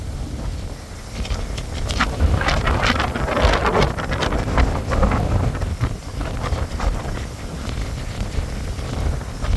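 Cool, breezy wind sweeps across a beach at Mahogany Bay, Roatan, buffeting the microphone in uneven gusts over a steady rushing roar.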